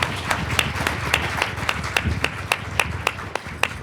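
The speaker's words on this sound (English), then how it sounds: "a round of applause?" Applause at a school board meeting welcoming a new member, a small group's steady, sharp clapping at close range, with one pair of hands clapping in a clear regular beat among the rest.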